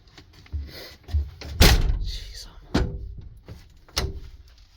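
The door of a 2003 Blue Bird TC/2000FE school bus is pushed shut and latched: a few light knocks lead up to a heavy thud, then further latching clunks, up close with some voices nearby.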